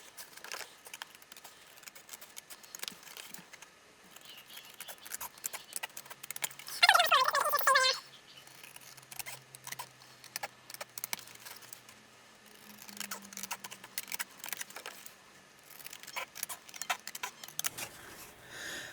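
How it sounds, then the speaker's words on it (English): Large scissors snip tabs off the pieces of a gingerbread advent house kit, with repeated close clicks and cuts. A louder burst of crinkling or tearing stands out briefly, and there is no talk. "we need to cut the tabs off this one because we don't need those."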